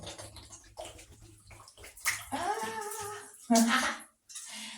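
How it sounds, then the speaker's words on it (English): Water poured over dreadlocks while the scalp is massaged, heard as soft close splashing and sloshing mixed with a person talking throughout. "Just put some water over it and massage your scalp"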